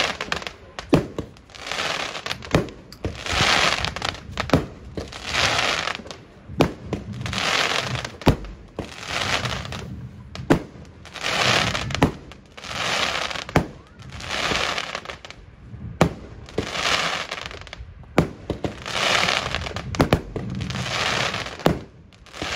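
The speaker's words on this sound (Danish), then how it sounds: "Et 19 batteri i 30 mm rør." A 19-shot firework battery in 30 mm tubes fires outdoors, with regular booming launches each followed by a crackling burst, repeating steadily for about twenty seconds.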